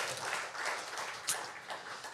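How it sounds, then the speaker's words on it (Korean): A church congregation applauding, a soft, diffuse patter of many hands spread through the room, steady and moderately distant with one sharper clap standing out near the middle. "우리 하나님께 영광의 박수 올려드리겠습니다"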